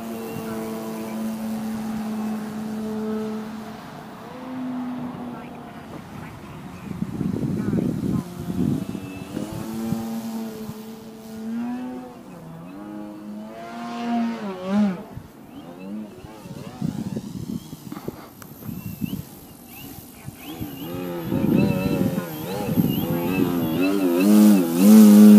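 A Skywing 55-inch Edge 540T RC aerobatic plane's engine whines and surges in flight, rising and falling in pitch as it passes near and far, with someone talking over it.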